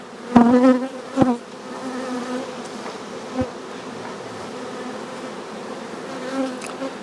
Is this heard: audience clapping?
no